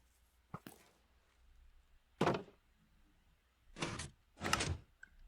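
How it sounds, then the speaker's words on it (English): A Minecraft gate shutting like a door, wired to an item filter: a couple of quick clicks, then a solid thunk and two more heavy, slightly drawn-out thumps, spaced apart in an otherwise quiet setting. "Like, I hate the sound of the gate."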